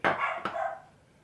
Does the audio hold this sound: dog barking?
yes